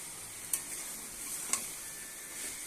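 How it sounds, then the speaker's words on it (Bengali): Turmeric and Kashmiri red chili sizzling in hot oil in a pan, a steady close frying hiss with a couple of sharp spoon taps against the pan as the spices are stirred. "একটু নাড়াচাড়া করে নেব"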